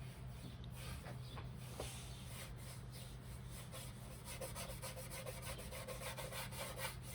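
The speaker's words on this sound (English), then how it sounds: "Just going to go in there and rub some black in there." Black paint is rubbed into a surface by hand, a faint, steady scratchy rubbing that continues throughout with soft, irregular strokes and no voices.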